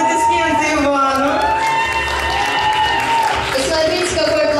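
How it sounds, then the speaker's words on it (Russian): Crowd at a student contest claps and cheers loudly for a contestant from the medical faculty, a dense roar of applause, whoops and shouting voices sustained across the whole stretch. "Аплодисменты Ивану!"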